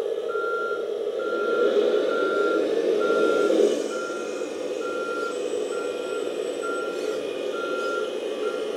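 A Kabolite K3362 4x4 RC dump truck backs up, its reversing beeper sounding steady evenly spaced beeps over a constant motor whir, close and fairly loud, with no talk.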